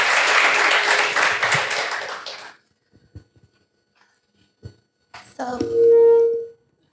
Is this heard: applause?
yes